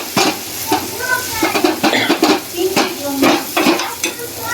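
Asafoetida and turmeric being stirred into hot oil for a garlic chutney, with a brisk sizzle and quick metallic scrapes of a spoon against the pan, close up, with a voice briefly audible.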